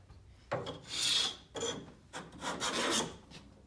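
A hand scraper takes shavings off wood in several short rasping strokes, about four close, distinct scrapes with brief pauses between them.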